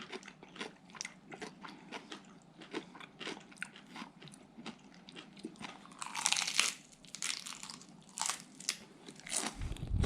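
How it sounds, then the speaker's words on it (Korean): Crisp, close-up crunching and biting of raw napa cabbage leaves for ASMR, with repeated sharp crunches and chewing at a quiet level, growing louder and wetter toward the end, with no talking. "배추 ASMR"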